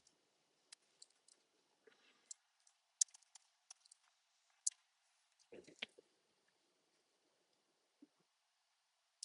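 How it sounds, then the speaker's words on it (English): Sparse, quiet clicks of keys being typed on a computer keyboard, scattered irregularly with short pauses, plus a brief muffled thump midway. "typing is hard"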